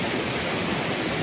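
The Rawa river, a hill stream in Khotang district, Nepal, rushes steadily close by, a dense, even roar of flowing water with no pauses and no voices.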